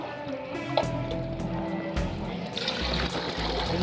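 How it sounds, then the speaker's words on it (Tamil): Water pours into a pot for biryani, a continuous splashing, gurgling flow that grows fuller toward the end, close up and heard on its own. "உலக்கு தண்ணி ஊற்றிக்கலாங்க. மொத்தம் 3 படி தண்ணி."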